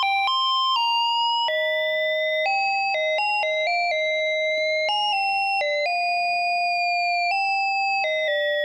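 XAOC Devices Odessa additive oscillator on a modular synthesizer gives a bright, bell-like stacked tone that steps through a series of sustained pitches, with a faint noisy hiss beneath, steady and unaccompanied.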